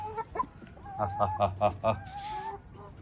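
A free-range hen clucks in a quick run of five or six notes, close by, with a few other faint bird calls and brief voices around it.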